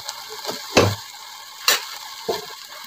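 Raw polao rice fries in a pan with a soft background sizzle, broken by a few distinct scraping stirs of a spoon against the pan, close and spaced apart, with no voices.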